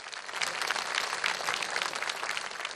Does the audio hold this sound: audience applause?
yes